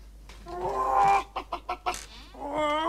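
Chickens cluck in a 1990s UK Carling Black Label beer commercial, a quick run of four or five sharp clucks between longer squawking calls, loud and close.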